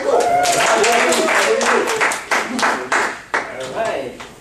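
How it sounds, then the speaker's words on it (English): Applause from an audience at a club meeting welcoming the club mentor, with scattered claps and cheering voices over a steady, fairly loud ovation that fades toward the end. "let's give him a good round of applause"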